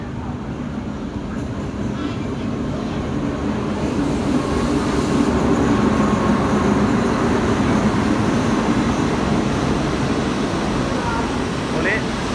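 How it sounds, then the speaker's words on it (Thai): A train arrives at a Thai railway station, rumbling past at close range in a continuous, loud roar of wheels and engine noise, with faint voices underneath. "รถไฟมาพอดี"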